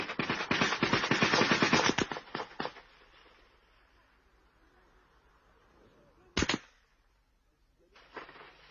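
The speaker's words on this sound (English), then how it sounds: "comrades open fire as soldiers are spotted unexpectedly" Bursts of rapid gunfire from an ambush on government soldiers on a track near Kampala during the Luwero war, a dense close volley for two seconds, then scattered shots and a lone sharp crack amid quiet.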